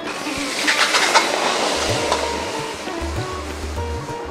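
Water pours steadily into a wok for traditional North Bengal pelka, a close, loud, continuous rushing splash that lasts the whole time with no speech.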